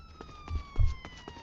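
Fire truck siren in a video game, a steady wailing tone sweeping slowly downward through the clip, moderately loud with some low thumps and bumps around it, no talk.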